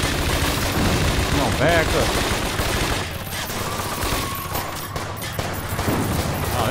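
Gunfire from the crime action game Scarface: The World Is Yours, a steady, loud roar of shots and fusillade filling the whole clip, with a player talking over it.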